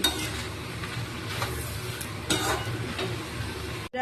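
Three kinds of peas, including chickpeas and dried peas, sautéing for ghugni: a dense continuous sizzle with repeated spatula scrapes and occasional louder stirs against the pan, ending in a short dropout.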